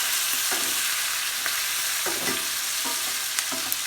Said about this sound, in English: Real carefully put the lid up. And we're just going to give it a first stir.